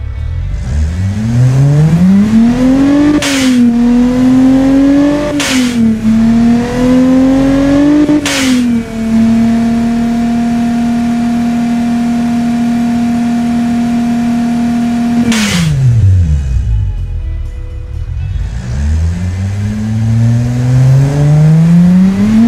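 A simulated car engine in the Automation game revs loudly in three rising surges, holds a steady high drone for several seconds, then drops off and climbs again, with no voices over it.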